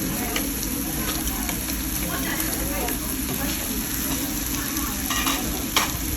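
Fish and shrimp on a grill, a dense continuous sizzle and crackle that stays loud and even throughout, with voices talking over it.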